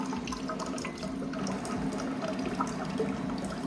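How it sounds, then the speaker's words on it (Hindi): Hot water pours steadily from a water dispenser machine in a home, a continuous close splashing trickle with no talk. "वो गरम पानी आप देख सकते हैं,"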